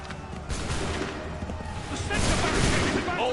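Musket volley fire in Assassin's Creed 3 Remastered, a dense crackling burst of many shots that rolls on continuously and swells toward the end, loud and close.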